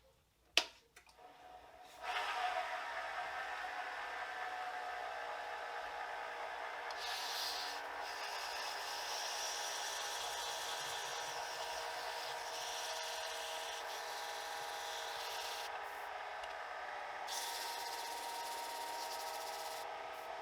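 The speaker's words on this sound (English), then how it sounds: "I will turn my lathe on to about 700 RPMs" A wood lathe spins a slimline pen blank at about 700 RPM, with a steady even motor whine and whir that starts after a brief click and holds close and continuous with no talk.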